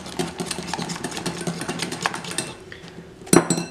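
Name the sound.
mixing mayonnaise while adding oil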